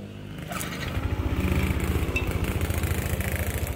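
A Yamaha NMax scooter engine, started by remote through an MP2 two-way alarm module, cranks and catches, settling into a loud, throbbing idle with an even pulsing rhythm close by.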